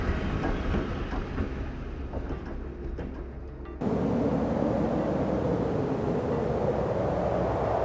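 A train runs along the Ferrovia Circumetnea railway, a steady rumbling roll with faint rhythmic clatter of wheels, the sound shifting abruptly midway to a broader, louder rushing noise.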